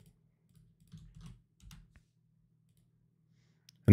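A few quiet computer keyboard keystrokes are typed in short bursts during the first two seconds, then silence, then a sudden loud thump at the very end.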